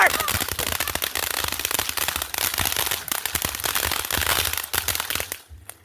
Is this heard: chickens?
no